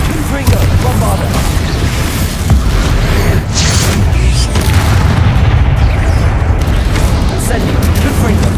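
Confringo and Bombarda spell explosions in Hogwarts Legacy go off in a dense, continuous run of deep booms and blasts, with a voice speaking over the combat.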